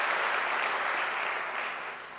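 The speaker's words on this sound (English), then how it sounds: "Let's give them all a round of applause." An audience at an evening lecture breaks into steady applause, a dense even wash of clapping that holds strong and then tapers slightly toward the end, with no voices over it.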